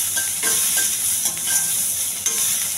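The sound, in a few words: onion frying with cumin and curry leaves in pan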